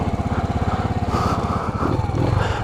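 A Suzuki TU250X motorcycle engine pulls away under added throttle, its pulsing single-cylinder thrum steady and close, rising slightly in pitch as it accelerates.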